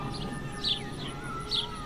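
Faint birds chirp in short repeated calls, spaced about a second apart, over a steady background hum.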